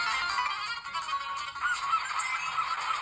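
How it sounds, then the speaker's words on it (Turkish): Shrill, repeated seagull calls in a video game, layered over a steady synthetic background, fairly loud and continuous without any talking. "Martıların sesi var."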